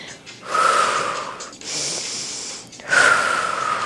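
Heavy exercise breathing during a cardio and strength circuit workout comes as three long, loud, forceful breaths close to the microphone, separated by short pauses, with no talk.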